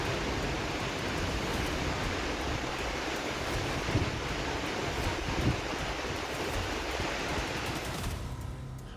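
Floodwater rushes over a bridge into a gurudwara, a dense, unbroken roar of churning water heard alone at steady loudness before it cuts off abruptly near the end.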